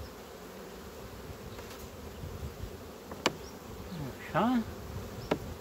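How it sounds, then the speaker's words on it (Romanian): A honeybee colony hums in a low, steady buzz close by, with a few sharp clicks and one short spoken word partway through. "O familie de albine, îți dai seama?"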